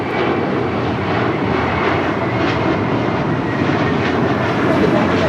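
A jet airliner at Los Angeles International Airport roars steadily close by, a loud, unbroken broadband engine rush that holds for the whole stretch with no voices over it.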